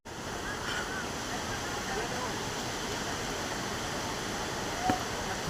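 Jogini Falls near Manali, a steady, unbroken roar of water pouring down, filling the whole stretch evenly with broadband rushing noise at a constant level.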